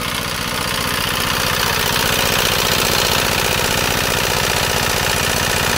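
A Chinese soil-cutting machine pumps water and mud up through a pipe, its engine running as a loud, continuous, rough mechanical drone with a steady low throb, close by and without talk.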